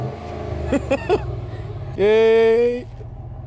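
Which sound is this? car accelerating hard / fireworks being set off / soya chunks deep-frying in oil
car accelerating hard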